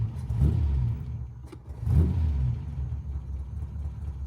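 Daimler Dart engine running with its mixture out of tune, a close, rough low rumble with two brief revving swells before settling to an uneven idle.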